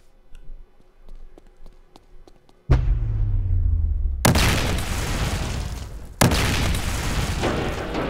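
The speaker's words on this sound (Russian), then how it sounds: "Вторая взрывчатка тоже взорвалась." Explosives detonating in the VR game Boneworks: after some faint clicks, a loud deep boom with a long rumbling decay, followed by two more sharp, loud blasts in quick succession.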